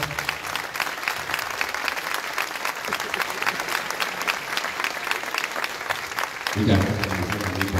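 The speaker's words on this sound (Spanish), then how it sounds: "por favor, otro fuerte aplauso" Sustained audience applause fills a farewell moment at a solidarity event, steady and dense throughout, with a voice briefly speaking over it near the end.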